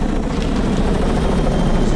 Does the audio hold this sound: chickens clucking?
no